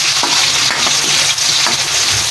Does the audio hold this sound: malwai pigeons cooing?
no